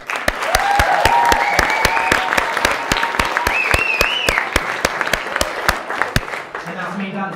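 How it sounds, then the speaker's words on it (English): Applause at a wedding reception, sustained clapping from a room of guests over several seconds, with some cheering or voices mixed in beneath the claps. "round of applause for Lauren."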